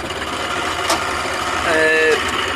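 An Ursus C-360 tractor engine drones steadily in neutral, swelling briefly in pitch and loudness as it revs, with a tonal whine rising near the end.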